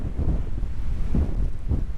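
Strong wind gusting across snowy wilderness on a hike, a continuous roaring rush buffeting the microphone with swelling gusts throughout.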